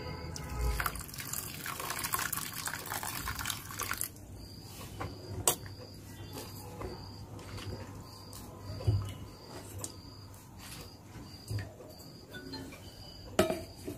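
Running tap water splashes over chopped brinjal in a kitchen sink, a steady close wash with occasional sharper splashes and clinks as the pieces are handled, no talking.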